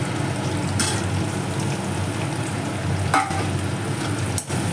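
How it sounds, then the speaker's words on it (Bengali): Fried pointed gourd being stirred in a pan over a low gas flame, giving a steady close sizzle with occasional scrapes of the spoon against the metal, and no voices. "এবার খুব ভালো করে একটু নাড়িয়ে নিচ্ছি।"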